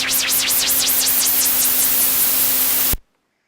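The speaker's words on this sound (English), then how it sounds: "We're going to add this saw wave in, quite a harsh saw wave" A harsh saw wave synth swells through an EDM transition, a bright, noisy buzz with a fast sweeping wobble over a steady low tone, loud and alone until it cuts off abruptly into silence.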